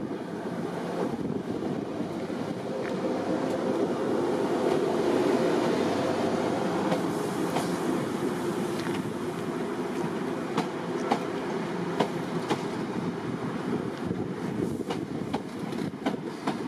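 Greater Anglia class 90 locomotive-hauled intercity train departing Norwich station, a steady broad rumble with wind buffeting on the microphone and scattered metallic clanks and squeals from the wheels and rails.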